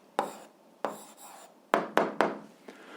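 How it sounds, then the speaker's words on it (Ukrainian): Pencil or pen strokes writing out an algebra answer by hand, several short scratchy bursts in a soft irregular rhythm, close and quiet, with no talking. "Ну що ж, записуємо відповідь."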